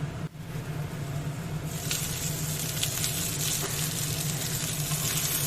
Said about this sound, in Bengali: এটা আবার কিছুক্ষণ ভেজে নেব।